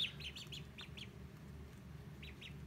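Ducks quacking in a few short bursts over a steady low rumble, with a pause and then a final pair of calls near the end.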